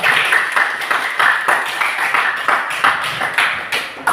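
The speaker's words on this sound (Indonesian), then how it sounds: "tepuk tangan untuk kita semua" A class of schoolchildren claps their hands together in a classroom, sounding as a run of sharp, close, fairly loud claps in an uneven rhythm, with some claps grouped into bursts and no talking over them.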